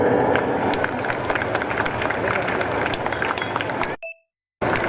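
An audience claps steadily at a stage event, a dense, continuous patter of many hands that cuts off abruptly into a short beep and silence before resuming.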